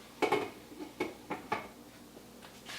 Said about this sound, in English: And I'm going to put the lid on this